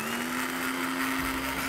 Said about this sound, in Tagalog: So lagay na natin ngayon sa blender, itong ating red bell pepper na inihaw at natanggalan ng balat